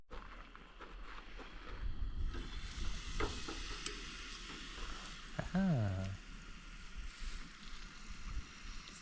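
Steak frying in a pan at a campsite kitchen, a steady soft sizzle with stirring and clatter, plus a brief whistling tone partway through.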